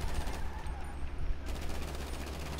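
Gunfire breaks out in a Bloods vs Crips street skit as a dense, noisy fusillade, with a rapid, machine-gun-like rhythm in the second half.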